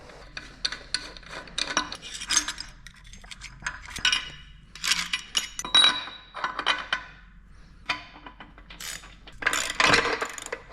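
A socket wrench works loose the front hub nut on a GM 10-bolt truck front axle, giving irregular metallic ratcheting clicks and clinks in short close bursts with quiet gaps between.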